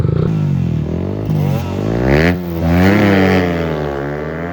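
A motorcycle engine, a two-stroke Suzuki RXT 135 or a four-stroke Suzuki Raider FI, revs up loud and close, climbing in pitch, dipping briefly at a gear shift, then climbing again.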